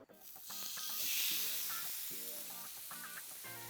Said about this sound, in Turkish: Bu minnoşu alıyorum T-bone steak'imizi. Allah Allah. Şöyle döküm tavaya koyacağım.